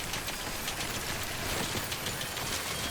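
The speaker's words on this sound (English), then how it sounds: "We need to get out of the rain." Steady rain falling in the video game Death Stranding, a continuous broadband hiss with soft patter, constant and fairly loud from start to end with no voices.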